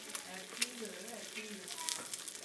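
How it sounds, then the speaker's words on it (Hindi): An egg fries in a pan with a faint, steady sizzle and light crackle, heard close but quietly while a voice talks over it. "यहाँ पर मैंने एग को फ्राई कर लिया है।"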